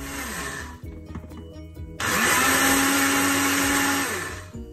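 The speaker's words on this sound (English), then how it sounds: "Add milk to the blender and then start blending." A blender starts up and runs loudly with a steady high whir, blending rice with milk for payesh, after a few quiet clicks and knocks.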